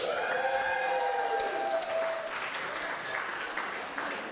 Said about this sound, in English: save your applause because this is going to go for a while